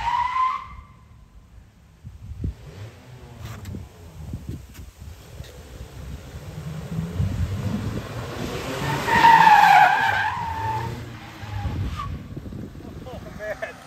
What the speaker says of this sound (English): when you slam on the brakes and just turn a little and it like skids in nicely